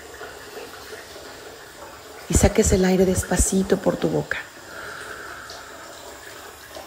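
Water runs in a soft, continuous stream throughout, with a person speaking calmly over it for a couple of seconds midway.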